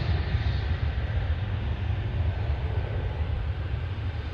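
A Japan Airlines airliner takes off at DFW airport with a continuous, heavy engine rumble that holds steady and fairly loud throughout, with no speech.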